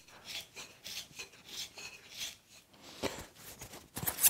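A tenon cutter twists around the end of a wooden stool stretcher, giving a steady series of dry rasping, scraping strokes that pulse in rhythm, close by and moderately loud, with a few sharper scrapes near the end.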